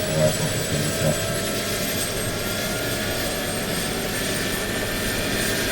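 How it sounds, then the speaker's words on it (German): Agusta AW-109K2 rescue helicopter RC scale turbine model, heard as a steady turbine whine with high tones and a broad rotor roar throughout, moderately loud and unbroken, with no speech. "ein Helikopter, der Agusta ist eine große REGA-Maschine"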